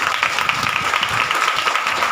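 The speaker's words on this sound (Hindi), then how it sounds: "ताली बजा के।" A church congregation at a Hindi Bible study claps along in a steady, dense patter of many hands, moderately loud and continuous throughout, with faint voices mixed in beneath.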